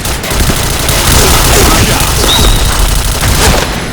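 Rapid, loud automatic gunfire in the video game Point Blank, a continuous dense stream of shots and booms running for several seconds with no pause.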